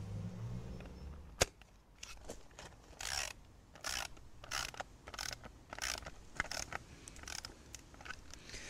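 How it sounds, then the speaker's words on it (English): A socket set tightens bolts on a wooden garden planter during assembly, heard as quiet bursts of sharp ratcheting clicks in irregular groups, with one sharper knock early on. "I'm just going to literally give the bolts a quick tighten with the socket set"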